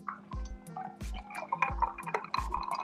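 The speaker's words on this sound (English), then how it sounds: "I hear you pouring a drink" A drink is poured from a bottle in four slow, evenly spaced glugs. The glugs are faint and low, over a steady background hum, and no one speaks.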